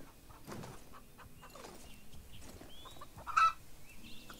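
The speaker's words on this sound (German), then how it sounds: "hier ist auch wieder ein leises Gackern, sammeln wir das Huhn gerade noch ein" Soft chicken clucking from a hen in the Star Stable Online video game, a few quiet clucks and a brief brighter squawk near the end over faint game ambience.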